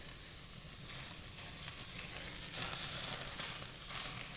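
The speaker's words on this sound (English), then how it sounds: "we tied this and we're searing it" A tied prime rib sears hard in a hot pan as its crust forms, giving a loud, dense, continuous sizzle that swells briefly midway, close up with no talking.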